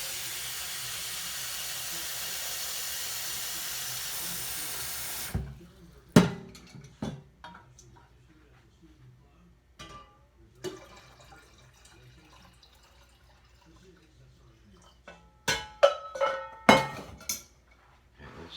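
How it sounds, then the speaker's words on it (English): Water pours steadily with a hissing rush for about five seconds, then stops, followed by scattered clinks and small knocks of handling. "So let's put more water in that."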